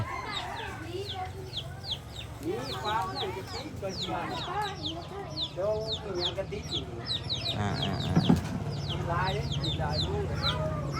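Several decoy chickens in a Hmong village in Hongsa, Laos, cluck and call in dense, overlapping bursts at mid distance, with people talking nearby and a brief louder knock near the end.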